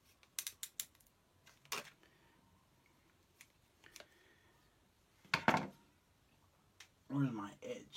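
Scissors make a few quick, close snips in short bursts, separated by quiet pauses and small handling noises.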